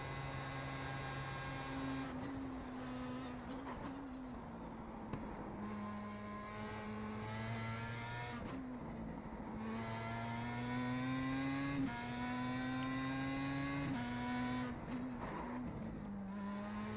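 A low-horsepower Pro Mazda race car laps the Nordschleife, its engine droning loudly and continuously with rising pitch through the gears and sharp drops at each upshift, no talk over it.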